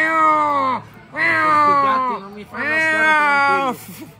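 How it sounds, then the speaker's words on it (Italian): Several cats meow in long, drawn-out, wavering calls, three loud close bursts separated by short pauses, with no talk over them. "Questi gatti non mi fanno stare"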